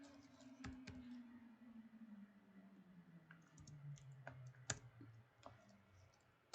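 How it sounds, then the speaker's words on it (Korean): Soft, irregular clicks of typing on a computer keyboard, scattered keystrokes at varying intervals over a low steady hum, with no one speaking. "다시 타이핑해 보겠습니다."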